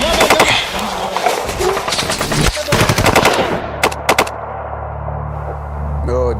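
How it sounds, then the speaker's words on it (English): Gunfire from an unseen enemy during the Kargil War battle of Chorbat La: dense, loud sustained volleys of rifle and machine-gun fire, followed by a few isolated sharp cracks and a lingering low rumble. "the Adam base came upon simultaneous fire from an unseen enemy"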